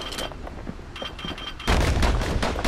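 Dual slinger pistols in the action game Bastion: a handful of light shots and scattered clicks, then a louder burst of rapid overlapping gunfire with crashing impacts.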